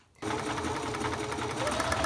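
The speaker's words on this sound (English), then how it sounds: "Make sure you're only getting one side of this fabric in here, and you're going to put it under the sewing machine right here." A sewing machine starts abruptly and runs continuously, stitching fabric and elastic for pointe shoes with a rapid, even mechanical chatter, close and clear.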